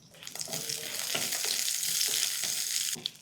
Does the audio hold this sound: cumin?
yes